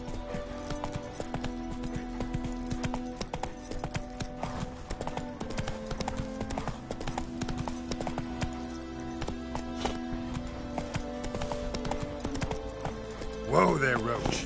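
Roach, a horse in The Witcher, clip-clops along steadily under dense game music and ambience, and a voice speaks over the hoofbeats.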